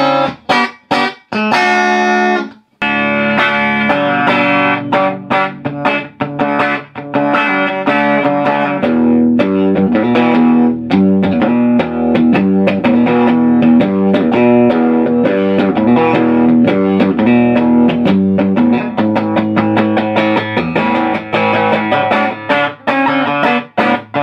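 Electric guitar through a 1973 Traynor YGM-3 valve combo amp with boost on, treble at 4, bass fully up, reverb and tremolo off, giving a loud, continuous distorted riff of choppy chords and notes with no talking.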